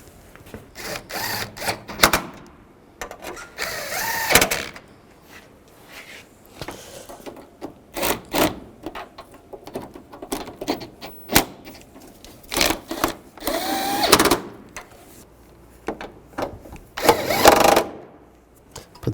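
A power tool runs in repeated short bursts while bolts are tightened on the radiator fan assembly of a 2010-2017 Chevrolet Equinox, with pauses and clanks between the close, fairly loud bursts.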